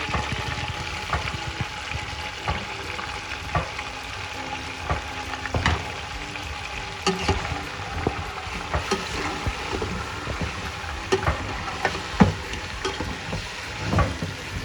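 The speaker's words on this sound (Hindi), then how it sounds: "जिंजर गार्लिक पेस्ट के साथ फ्राई करेंगे" Mutton frying with ginger garlic paste for korma, a continuous close sizzle with irregular stirring scrapes and spatters throughout, and no talk over it.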